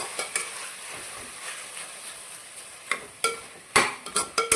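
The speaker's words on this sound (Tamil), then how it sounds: "சிக்கன் நல்லா சிம்மிலேயே வதங்கட்டங்க" Marinated chicken sautés in a pan on a low flame, a gentle steady sizzle with occasional sharp clinks and scrapes of a spoon stirring against the pan toward the end.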